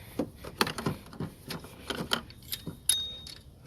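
Clicking ratchet bursts from a Pittsburgh adjustable geared wrench loosening a bolt on a Honda Acura V6 belt tensioner, with metallic jingles and short rattling strokes at close range, no talk.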